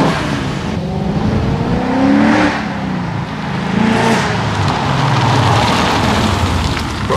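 A V8 muscle car makes a loud acceleration pull on a wet road, its engine revving in rising sweeps that swell and fade nearby over a constant hiss of rain.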